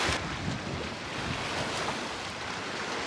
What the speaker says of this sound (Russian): Ну, ветерочек прохладный идет.